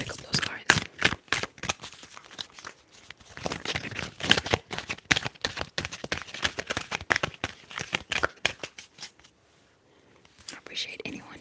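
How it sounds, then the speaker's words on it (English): Tarot cards shuffled by hand in a quiet close-up setting, giving dense rapid riffling and flicking bursts that continue almost nonstop, pause briefly near the end, then resume with soft whispering mixed in. "I'm shuffling"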